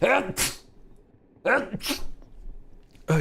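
A single person sneezes sharply, close by, in a casual indoor setting while a game is being built, with talking voices before and around it.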